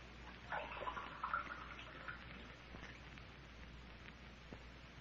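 Water poured into a glass as a radio drama sound effect in an old-time horror serial: a faint, steady trickling splash lasting several seconds over a low background hum, with no voices.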